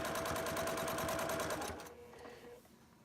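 A sewing machine stitches in a fast, steady mechanical rhythm that runs close and clear, then stops abruptly, leaving a faint hum and quiet room noise.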